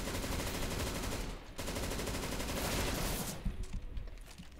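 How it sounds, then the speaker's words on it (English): Rapid machine gun fire in the shooter CS:GO on a custom map, loud and sustained in a dense continuous stream with a brief break partway, then trailing into scattered shots and clatter. "It's a machine gun."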